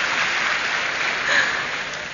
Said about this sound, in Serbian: svaki aplauz je super